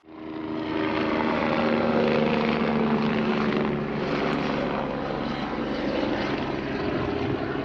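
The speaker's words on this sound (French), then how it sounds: "c'était l'hélicoptère qui est venu récupérer la meuf qui s'est blessée" Steady whirring rotor and engine drone of a rescue helicopter overhead on a hiking trail in Corsica, continuous and fairly loud throughout with no talking.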